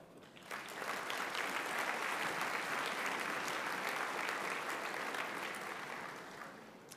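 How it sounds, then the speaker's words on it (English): An audience at a spring convocation for a school of social and community services claps for supporters, a sustained, even wash of applause from a large hall that swells quickly and holds steady. "I think you deserve a round of applause as well."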